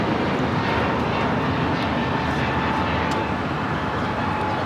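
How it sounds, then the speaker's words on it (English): American Airlines A321neo jet departing LAX for Phoenix, a steady broadband engine roar that stays loud and constant throughout, with no voices over it. "2312 taking off to Phoenix on the A321neo."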